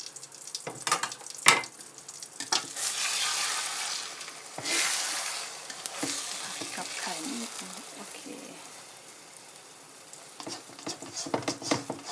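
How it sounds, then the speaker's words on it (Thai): Beaten egg frying into an omelette in a pan, a steady hiss and sizzle that swells and fades, mixed with scattered clinks and scraping nearby. "ระหว่างที่เจียวไข่นะคะ"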